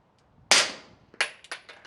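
A suppressed Stealth Arms Platypus 1911/2011 pistol fires subsonic rounds outdoors: one sharp, loud report followed by a quick string of three more shots, each a crisp crack with a short decay, no talking.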